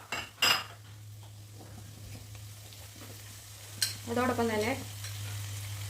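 Onions and tomatoes are sautéed in a pan while prawn curry is prepared, with a low steady sizzle, a couple of sharp utensil clanks against the pan and a brief spoken phrase.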